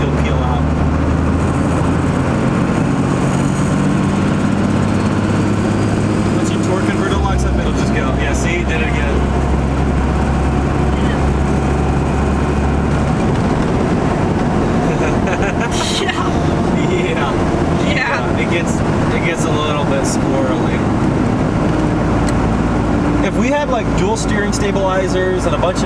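Twin turbo 12 valve Cummins diesel truck accelerating gradually, a loud deep engine drone rising and shifting in pitch with road rumble throughout, while people talk over it.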